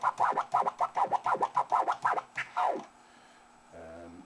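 A DJ scratches a record in a polymetric pattern, a boomerang with an extra slice, as rapid rhythmic forward and reverse strokes that end in a longer drag, then brief quiet.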